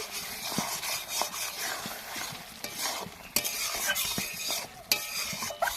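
Chicken stirred in a pot after the lid comes off, with loud scraping and clanking of a utensil against the metal over a low simmering sizzle, close and without speech.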